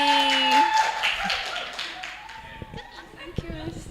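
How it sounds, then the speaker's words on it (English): Scattered applause and claps from a classroom audience at an English public-speaking assessment, with tonal sounds and a few sharp taps over it, tapering into separate claps. "Big applause to Honey"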